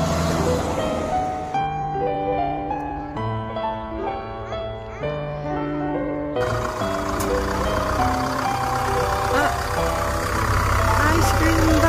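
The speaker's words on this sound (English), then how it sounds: "Ice cream bike." Ice cream bike in the town of Crediton, Devon, England, playing a sustained chiming melody of clear tones over a low background hum, with some talk mixed in.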